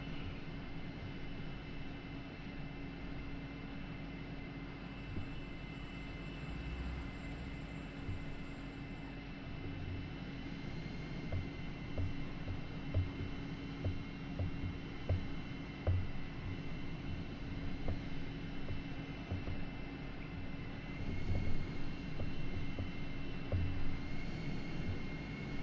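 Jet aircraft engine in a flight simulator drones continuously for the whole stretch, a steady loud hum with a high whine and layered tones, swelling slightly toward the end with small ticking clicks.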